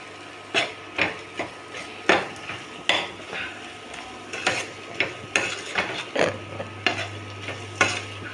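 Brinjal sautéing in a pan for Tamil kara kulambu, with a hot sizzle beneath repeated loud scrapes and clanks of a spoon stirring against the metal pan in an uneven rhythm.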